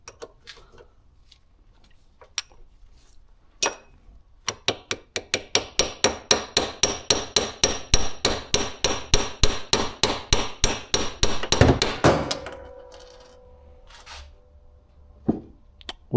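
Steady, rapid hammer blows ring out during a 2JZ power steering pump rebuild, speeding up into a dense run of loud strikes before stopping, with a few scattered knocks around them.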